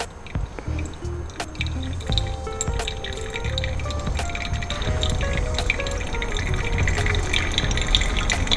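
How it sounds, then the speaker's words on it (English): Water poured gently and close to the coffee bed in a Kalita Wave dripper, a steady continuous trickle and splash running throughout, near and alone. "Once again, I'm pouring relatively gently and pouring quite close to the bed as well."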